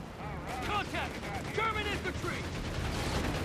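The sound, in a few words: 30 cal machine guns firing in Company of Heroes 3 video game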